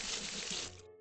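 Water pours from a block in Minecraft, a soft, even rush of trickling water that lasts about a second and cuts off abruptly.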